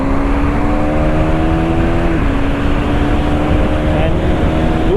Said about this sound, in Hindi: बाइक चल रही है भाई